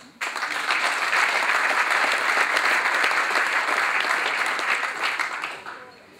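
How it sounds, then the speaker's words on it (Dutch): An audience at a local business award ceremony breaks into loud, sustained applause for a municipal alderman, with a full crowd clapping evenly for about five seconds before fading. "een applaus voor Wim van der Zanden"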